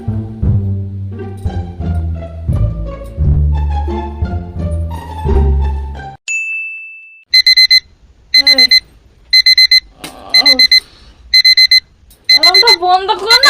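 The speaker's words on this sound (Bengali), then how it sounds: "অ্যালার্মটা বন্ধ কর না" An alarm clock rings in a bedroom, sounding a loud repeated electronic beeping in regular bursts, preceded by music and with voices talking between the beeps.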